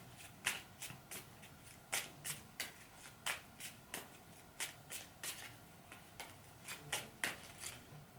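Tarot cards riffled and shuffled by hand in a quiet room, giving repeated crisp bursts of flapping card sounds at an uneven rhythm, close and fairly soft.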